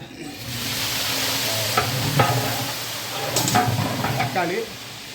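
Tomatoes tipped into frying biryani masala and stirred in a large pot while 100 kg of mutton biryani is cooked for a wedding, giving a steady loud sizzle with scraping stirs and clanks, and voices talking beneath.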